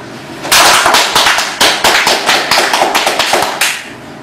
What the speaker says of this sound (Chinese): 我们要为之鼓掌。